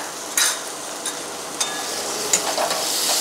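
Chopped tomatoes sizzling in a hot pan as they are stirred, a steady frying hiss with a few sharp clicks of a spoon against the pan, close and without speech.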